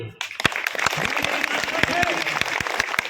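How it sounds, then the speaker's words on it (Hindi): A crowd claps in a steady burst of applause, with a voice speaking over it briefly at the start. "बजाओ ताली"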